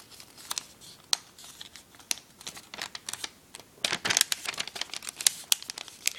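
Sheet of paper being folded and creased by hand into an origami swan, giving a quiet run of crisp crinkles and rustling taps that grows denser toward the end, with no talking.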